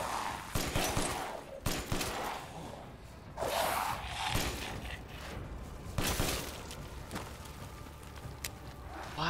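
Ethan's pistol in Resident Evil Village, firing a handful of quiet, irregularly spaced shots over busy background game noise and shuffling movement.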